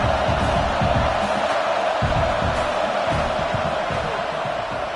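Stadium crowd in a college football video game, Nebraska hosting SMU, roaring in a dense steady wall of noise during a field goal attempt, loud and continuous with no break for five seconds.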